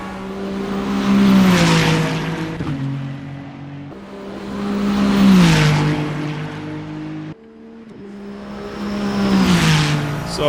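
A Lanzo Evo 2 GT3 race car engine in Assetto Corsa revs up through three loud, rising pulls, each climbing in pitch and cutting off with an abrupt shift, close and prominent.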